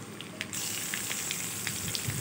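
Chopped onion frying in hot oil in a pan after black cumin seeds go in, a soft steady sizzle, fairly faint, that swells slightly after the first half second and continues with small crackles.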